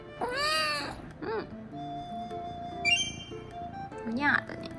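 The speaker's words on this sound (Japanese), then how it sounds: "おにゃーだね" A kitten and an older house cat meow several times, close and clear, in short rising and falling calls, with soft talking in between.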